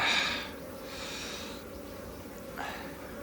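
Honey bees being moved into a hive, a steady agitated buzzing hum close by, with louder swells of buzzing near the start and end, no speech.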